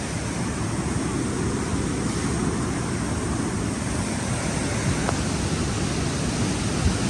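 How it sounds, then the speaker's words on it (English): Floodwater from torrential rain surges through flooded town streets, a dense, steady roaring rush close to the microphone, loud and unbroken throughout with no talking. "Just look at the power of this water."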